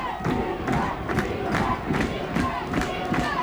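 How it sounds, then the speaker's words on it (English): A lacrosse championship crowd chants together for defense during a boys' varsity game, producing a loud, steady roar of many voices that swells in rhythmic pulses and fills the whole stretch. "CC chanting defense, the whole crowd."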